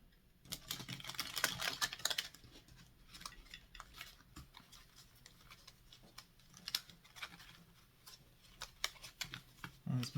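A deck of slightly curved, new-feeling cards is shuffled by hand during a card reading, with a dense riffling burst early on followed by scattered crisp taps and flicks, close and fairly quiet.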